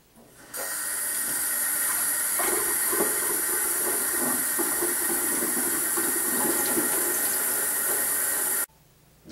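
A stream of water runs from a sink tap onto the back of a spoon. It makes a steady, close hiss that starts abruptly, holds evenly and cuts off near the end.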